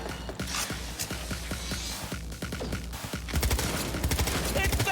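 Gunfire from the video game Cyberpunk 2077, including sniper fire: a rapid series of sharp shots cracks over a steady background, then grows denser and louder toward the end.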